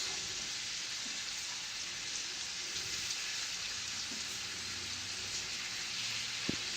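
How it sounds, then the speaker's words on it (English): Shrimp and onions sizzle in a searing-hot skillet with a constant, close crackling hiss that holds steady, broken by one brief knock near the end; no one speaks. "We're going to drop them into a searing skillet already, and then we're going to drop our onions."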